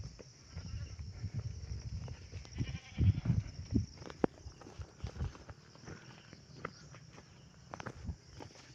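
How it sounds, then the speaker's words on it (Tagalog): Pet goats on a farm bleating in short irregular bursts, some near and louder, mixed with shuffling movement and faint background voices. "Papunta kami doon sa mga alaga naming kambing"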